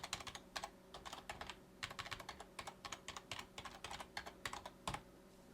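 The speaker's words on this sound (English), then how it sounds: "type in the title, I will type in Megabunk, and then type in the address." Someone types on a computer keyboard, entering a website title and address into a setup form, producing quiet, close, rapid clicks in uneven bursts with brief pauses and no speech.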